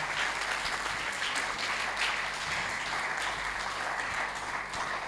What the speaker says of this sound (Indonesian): Tepuk tangan dulu buat kalian, luar biasa.